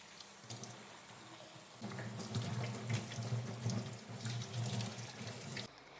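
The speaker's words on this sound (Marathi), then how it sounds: "आता हे वांगे ना कट करून घेऊ ना वांगे मस्त असे धुवून घ्यायचे" Tap water runs steadily into a sink as freshly picked farm eggplants are rinsed by hand, the gush swelling louder partway through with light splashing, close and alone before cutting off near the end.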